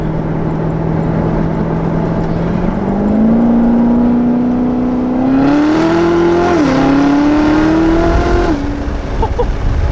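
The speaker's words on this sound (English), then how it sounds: "I can still hear that whistling sound in the exhaust" A steady, tonal exhaust whistle from a Corvette over its loud running engine, rising in pitch in steps as the motor revs, continuous throughout.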